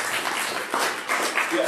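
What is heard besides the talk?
audience applause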